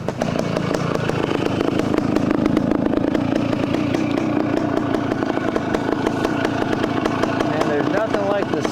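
A 1972 OSSA vintage two-stroke motorcycle engine running steadily, with a loud, rapid crackling buzz that stays close and constant throughout, and a voice talking over it.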